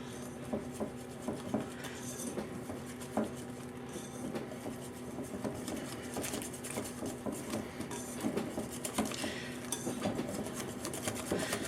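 Yorkshire pudding batter being mixed into flour, salt and pepper in a bowl, a steady close scraping and rubbing of utensil against the dish with light clinks throughout.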